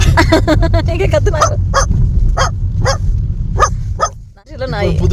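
A newly bought dog barks in a rapid series of loud, close yips and woofs, the barking steady at first and then spacing out, with a brief pause before more noise.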